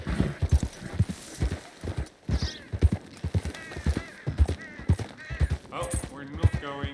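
In Red Dead Redemption 2, a horse gallops in a fast, pounding hoofbeat rhythm close by, its rider's voice talking over it with a brief whinny-like sound near the end.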